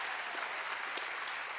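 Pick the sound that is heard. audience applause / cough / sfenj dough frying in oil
audience applause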